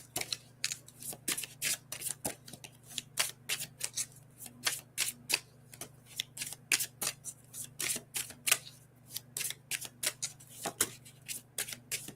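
Oracle cards are shuffled by hand in repeated quick riffling bursts with short pauses between them, close and fairly quiet, with no one speaking.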